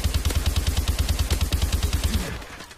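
Rapid automatic gunfire from a video game weapon, a steady burst of roughly twenty evenly spaced loud shots that cuts off near the end, heard alone.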